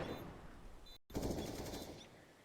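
Rapid automatic gunfire from a CS:GO match, dense and loud, cut by a brief silent gap near one second before the firing bursts back in and slowly trails off.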